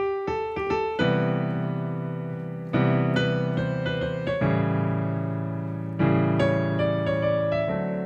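Solo piano plays a jazz standard: clear sustained chords and melody notes in a few phrases, with pauses between them, close and clean with no voices.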